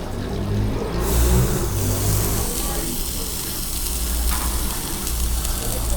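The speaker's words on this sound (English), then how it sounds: "let's get some of this steak on." Steak hitting a hot barbecue grill sets off a loud, steady broadband sizzle that swells after the first second and holds, with low rumbling background noise and a voice speaking at the start.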